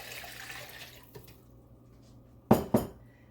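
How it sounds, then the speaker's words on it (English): Two cups of cold water poured into a pot for paper mache paste, a soft splashy pour fading over the first second, then two sharp metallic clanks of the pot close together. "Now I'm pouring my 2 cups of cold water into this just because it's going to be easier to mix."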